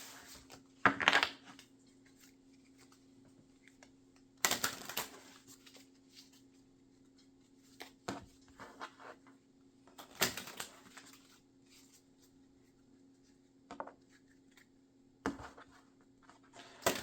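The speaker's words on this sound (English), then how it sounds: "as I'm shuffling these cards" Tarot cards being shuffled in several short bursts of crisp riffling and flicking, separated by quiet pauses, close up.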